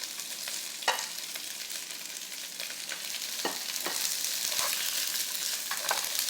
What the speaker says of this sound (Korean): 다음에 이제 양파를 넣겠습니다.